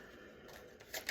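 Tarot cards shuffled by hand during a reading: a soft, faint riffle of card edges lasting about a second, growing slightly louder and crisper at the end.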